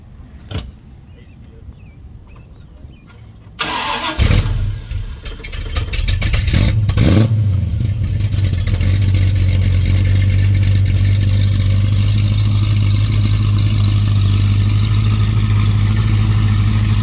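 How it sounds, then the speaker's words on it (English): A 1969 Mustang Fastback with a 351 Windsor V8 cranks briefly after a quiet lead-in, catches with a roar, blips through a couple of sharp revs, then settles into a loud, deep, steady rumbling idle close by. "So you mind starting it real quick just so we can kind of see it and hear it?"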